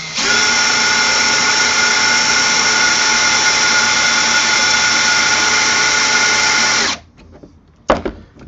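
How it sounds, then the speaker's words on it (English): A power drill bores a hole into an old RCA Victor 9EY3, a loud, steady whine held for about seven seconds before it cuts off, followed by a brief clunk. "drilling holes in this is not easy"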